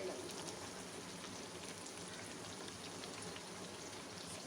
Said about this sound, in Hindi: और हम इसको अच्छे से फ्राई करेंगे जब तक कि गोल्डन ना हो।